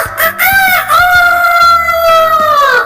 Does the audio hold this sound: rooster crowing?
yes